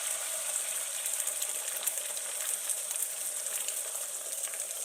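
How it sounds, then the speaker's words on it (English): Eggs go into a hot pan of bacon grease, producing a loud, even, close sizzle and crackle that holds steady throughout. "Pour the eggs in."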